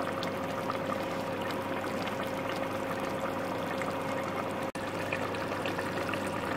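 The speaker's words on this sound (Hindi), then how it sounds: "अब इसमें हम ये 1 प्याली गरम करके पानी डालेंगे।" Hot water poured from a cup into a pot of tomato curry, a steady close-up splashing stream with one brief dropout near the end, no talking.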